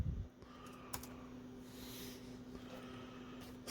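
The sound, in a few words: typing on a replaced Acer Aspire laptop keyboard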